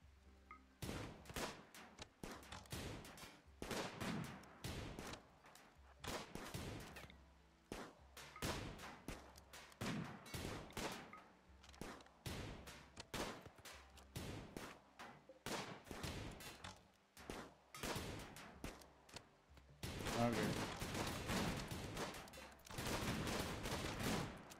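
Colonists shooting in RimWorld: repeated volleys of sharp game gunshots in irregular bursts and clusters, with a denser, louder stretch of continuous firing near the end.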